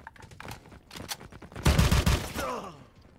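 Gunfire from bots in the game War Gun: a scattered volley of pops and shots builds to a denser cluster of louder bursts, then fades under faint background sound.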